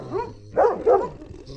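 A livestock guardian dog gives two short, close barks after a faint yip, with quiet gaps around them.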